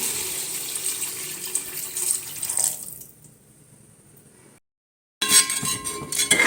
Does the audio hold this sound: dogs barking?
no